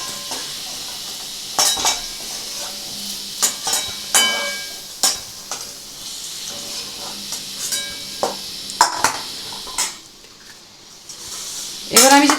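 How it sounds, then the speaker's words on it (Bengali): Chandramukhi potatoes fry in a pan for a Bengali fish curry, with a soft steady sizzle under repeated sharp clinks and scrapes of a utensil against the pan. "এটা চন্দ্রমুখী আলু, বেশি করলে গলে যাবে, এটা কিন্তু আমার ভাজা হয়ে গেছে।"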